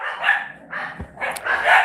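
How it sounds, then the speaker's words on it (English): Several dogs at a house in the Philippines bark in short bursts, four sharp barks and yips in quick succession, close and fairly loud, with a brief thump between them. "12 dogs."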